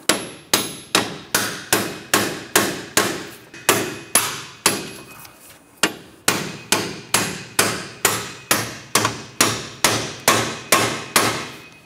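A hammer repeatedly taps the upper strut bolts into place on a 2006-2013 Chevy Impala front strut and spring assembly, about twenty close, sharp metallic strikes in a steady rhythm with one brief pause midway.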